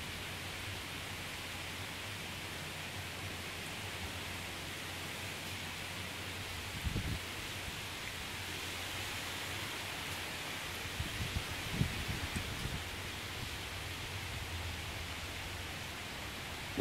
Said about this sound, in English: The rain is increasing more and more.